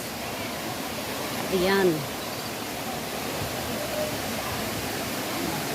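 Ng Tung Chai waterfall in Hong Kong roars as a steady, broad wash of falling water, while a person briefly speaks over the constant rush.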